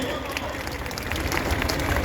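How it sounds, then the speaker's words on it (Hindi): Audience applause for performing schoolchildren at a Republic Day school function in Triveniganj, Supaul: a dense, steady wash of clapping that holds throughout, with crowd babble and a voice talking over it. "जोरदार तालियां हो इन बच्चों के लिए"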